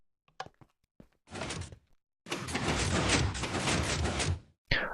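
A multi-stage 3x2x1 piston door in a video game works through its cycle, with a few sharp mechanical clicks and then long loud hissing, grinding surges as the pistons push the blocks open and closed.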